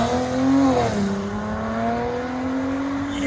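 A 2017 Mercedes-AMG C43 with a 3.0L twin-turbo V6, downpipes and a Wesgate cat-back exhaust revs up loud and close, its note climbing, dipping, then holding a steady droning pitch, with no one talking.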